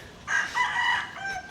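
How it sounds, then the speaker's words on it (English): A rooster crows once in the Philippines on a sunny day, a loud, close, drawn-out call lasting about a second and a half, standing alone without any talk. "it's fucking chickens, bro"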